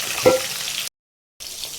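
Green chillies and tomato fry in hot oil while an aloo potol fish curry is being cooked: a soft, steady sizzle broken by a short silent gap before the frying noise resumes.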